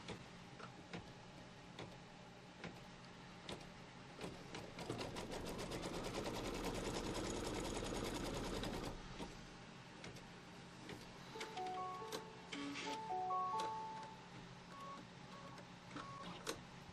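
An embroidery machine stitches a line on a quilt block, its rapid needle ticking running steadily, swelling louder mid-way, then easing into lighter clicks and faint tonal beeps near the end.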